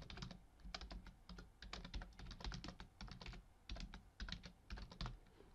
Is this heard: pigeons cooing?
no